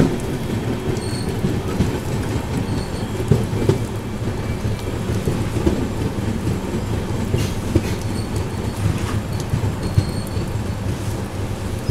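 A Vistadome train rumbles steadily as it pulls into Amruti railway station, a dense continuous roar of wheels and carriages with faint scattered clanks.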